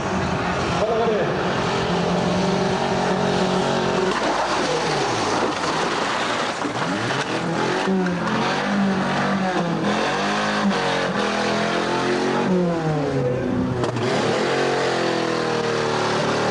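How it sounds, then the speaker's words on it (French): A personal Mitsubishi car drives toward a ramp for a live television stunt crash, its engine rising and shifting in pitch as it accelerates and closes in, loud and continuous, with a presenter talking over it. "il va percuter cette voiture avec sa voiture personnelle qui est une Mitsubishi"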